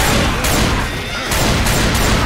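Loud, booming shotgun blasts from Left 4 Dead 2 fire in quick succession, dense and close, with a short lull between shots.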